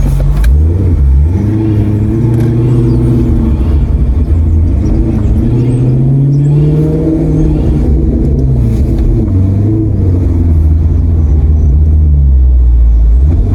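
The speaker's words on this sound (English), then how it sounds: "this car sounds so beautiful when it's warm." A warmed-up Maserati engine rumbles loud and close, its deep note rising and falling through several revving swells over a steady low drone, with no voices.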